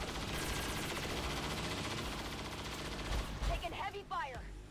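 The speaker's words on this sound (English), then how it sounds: "Taking heavy fire." Heavy gunfire in the video game XCOM 2 Long War of the Chosen, a dense, continuous barrage of rapid shots that rolls on loudly throughout, with a few sharper bursts near the end.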